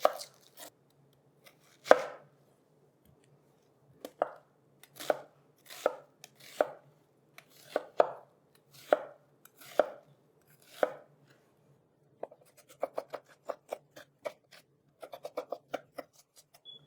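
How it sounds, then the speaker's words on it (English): A knife finely chopping a small onion on a board, a steady series of close, crisp cuts with short pauses, speeding into a quicker burst of taps near the end. "Next, we need a small onion that's finely chopped."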